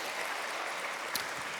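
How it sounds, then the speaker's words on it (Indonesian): A church congregation applauds during a worship service, producing a steady, dense wash of distant applause that runs unbroken throughout. "berikan tepuk tangan buat Tuhan saudara."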